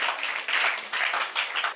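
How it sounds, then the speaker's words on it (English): A congregation or audience clapping during a talk on breaking unhealthy soul ties, a steady burst of many hands at moderate volume with slight swells. "Clap for them, please"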